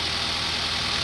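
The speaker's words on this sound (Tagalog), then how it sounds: "i-start natin yung makina." A car engine idles steadily just after being started, checked for a noise around the pulleys in the engine bay, a constant close hiss and whir with no break.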